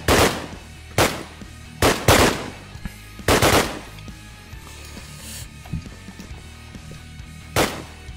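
Bursts of gunfire in a video game, several loud sharp volleys spaced irregularly over a steady background, with quieter shots in between.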